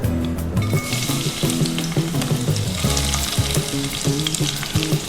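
Garlic going into hot oil and frying in a pan, a dense steady sizzle with light stirring clatter throughout, close and fairly loud, with no talking.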